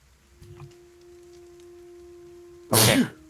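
A single loud sneeze bursts out near the end, close and sharp, after a stretch of quiet room tone with a steady hum during a tabletop dice game session.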